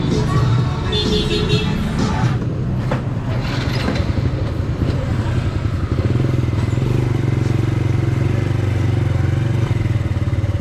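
A repaired habal-habal motorcycle taxi engine idles and runs steadily close by, a loud continuous rumble with some mechanical clatter and faint background noise.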